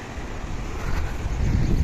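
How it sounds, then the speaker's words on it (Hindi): Light wind blows beside a river near a glacier in the mountains, making a steady, broadband rushing gust against the microphone that swells slightly toward the end, with no voices. "तो हवा चल रही है हल्की हल्की सी"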